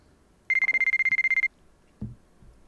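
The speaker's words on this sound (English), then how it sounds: "Ooh, that dang phone." A telephone in the White Album 2 game rings with one burst of rapid electronic trills lasting about a second, clear and close, followed by a soft thud.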